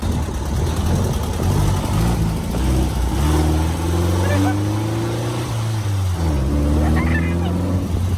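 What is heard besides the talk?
Bugatti replica car engine revving while driving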